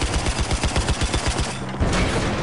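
Rapid gunfire in Battlefield 4, loud shots in a fast repeating rhythm that breaks off briefly and then resumes as heavier sustained fire.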